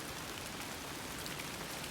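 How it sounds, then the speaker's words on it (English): Hail pattering steadily on camping tents at a mountain campsite along the Colorado Trail during a monsoon storm, a dense, even drumming of small impacts close by with no voices. "Oh boy, hail again."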